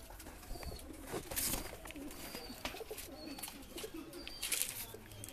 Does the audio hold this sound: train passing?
no